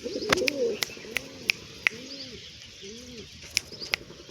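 A pigeon cooing in repeated rising-falling calls, with sharp wing flaps and clicks as it lands and settles nearby, and a few chirps of pigeon chicks around it.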